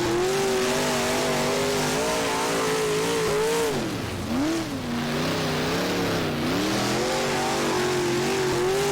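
Big block race car engine in the rFactor racing game at Ohsweken, loud and close, a steady roar that sweeps up and down in pitch as it revs through the corners, running alone throughout.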